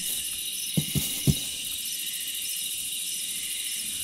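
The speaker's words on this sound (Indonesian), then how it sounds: "Suara jangkrik ini guys." Crickets chirp as a steady high, continuous drone in the Minecraft From The Fog video game, with three soft low thumps early on and no talking.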